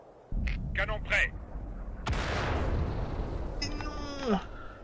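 An artillery cannon fires once mid-clip in the World of Tanks video game, a loud boom with a long rumbling tail over steady engine drone, while someone speaks briefly before and game sounds chirp afterward.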